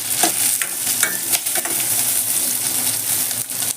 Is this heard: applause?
no